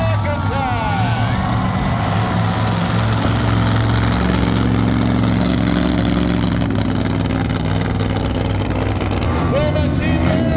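The Shark Attack monster truck's engine roars steadily and loudly at a monster truck show during the championship racing round, a continuous heavy mid-pitched drone with an announcer's voice carrying over it.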